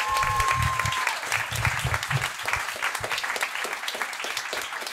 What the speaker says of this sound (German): Geil, Mann, nochmal Applaus für ihn, Mann.